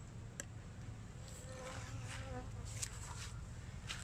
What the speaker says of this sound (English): I've got some apis or honeybees hanging around from the farm over the other side